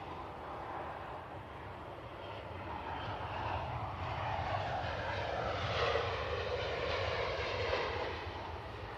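A Ryanair airliner arriving from Funchal, heard as a steady, broad jet roar that swells slightly in the middle and stays distant and moderate throughout, with no voices over it.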